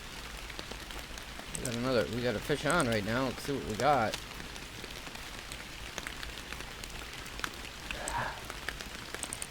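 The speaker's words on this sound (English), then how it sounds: "Very rainy day here in Emerald Lake." Steady rain falls on the water at Emerald Lake in the fishing game Fishing Planet, a soft continuous patter heard under someone talking briefly.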